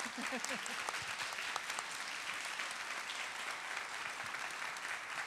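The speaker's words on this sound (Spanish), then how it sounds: "También le damos un aplauso, ¿no?" An audience at a book presentation for an apostolic world tour breaks into sustained applause, a soft, even wash of many hands clapping at a distance, with a brief voice near the start.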